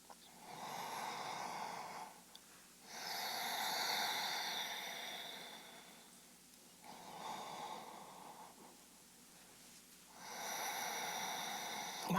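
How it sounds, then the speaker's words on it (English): Ujjayi yoga breathing heard at the throat: slow, audible hissing breaths with a soft oceanic rasp, about four long inhale and exhale cycles with pauses between, close and quiet. "if you tried the Ujjayi breath, where you can hear your own breath at the throat"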